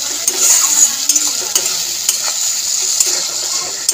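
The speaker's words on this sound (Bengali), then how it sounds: "সর্ষে পোস্ত দিয়ে অল্প একটু কষিয়ে নিচ্ছি, খুব একটা বেশি কষাবো না।" A paste of poppy seeds, white mustard and green chilli with turmeric fries in a pan with a close, fairly loud sizzle and repeated quick stirring scrapes and taps.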